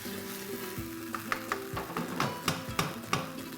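Red and green bell peppers are stirred in a frying pan, with a soft sizzle and several quick scraping strokes close by.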